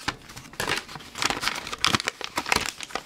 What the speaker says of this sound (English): Use my scissors to get through the tape.